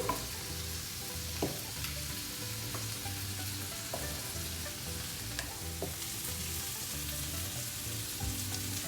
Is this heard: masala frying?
yes